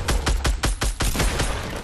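Rapid automatic gunfire in a video game, a fast, even string of loud close shots about ten per second, alone and without talk.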